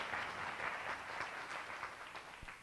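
An audience claps at a cohort demo day event, producing a soft, steady patter of applause that fades slightly over a few seconds, heard from a distance in a fairly quiet room.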